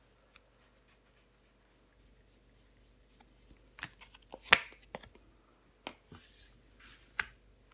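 Tarot cards are handled and laid down on a table in a quiet room: scattered soft taps, slides and a few sharp slaps, close and fairly faint.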